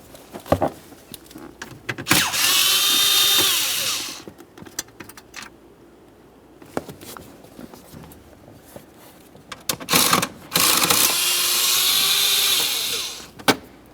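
A power tool spins out 7mm-headed bolts under the steering column of a 2001-2005 Ford Explorer Sport Trac, in two separate whirring bursts of about two seconds each, broken up by clicks and handling noise.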